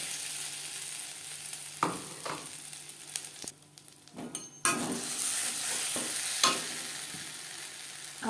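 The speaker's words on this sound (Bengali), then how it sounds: "সর্ষার তেল গরম করে নিয়েছি দিয়ে দেব মটরশুঁটি আদা ও কাঁচা লঙ্কার পেস্ট" Peas with ginger and green chili paste fry in hot mustard oil, a steady sizzle broken by several louder spatters and scrapes as the pan is stirred.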